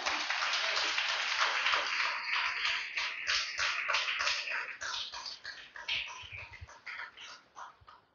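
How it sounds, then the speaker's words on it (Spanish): A church congregation claps together, a dense, fairly loud burst of applause that slowly thins into scattered claps toward the end. "Denle un fuerte aplauso al Señor, aleluya."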